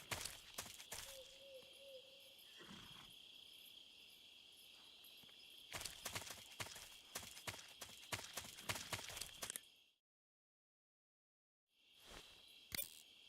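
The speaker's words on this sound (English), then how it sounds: "I know a horse when I hear one." Horse hooves clip-clopping in Metal Gear Solid 3, faint and intermittent among a steady chorus of chirping crickets and insects in a quiet jungle ambience, with a brief drop to near silence.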